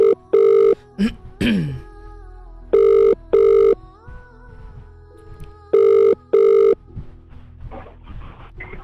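A telephone rings back during a call, with loud, close paired tones repeating three times at an even rhythm and quiet pauses in between.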